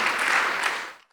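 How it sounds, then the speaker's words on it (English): Applause from an audience at a public discussion about California's problems and Santa Barbara's choices, a dense steady wash of clapping that fades out at the end. "Applause for that."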